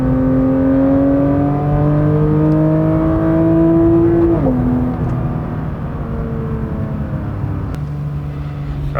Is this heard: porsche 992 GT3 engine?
yes